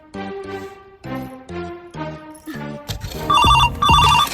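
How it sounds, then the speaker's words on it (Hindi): A telephone rings in repeated electronic bursts, loud and close, followed by a busier ringtone melody that grows louder. "अहाँ के फोन आयल है"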